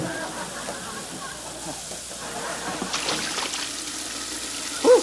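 Very hot water runs from a tap into a 2-liter plastic pop bottle, a steady hissing pour that brightens partway through, with a voice speaking over it.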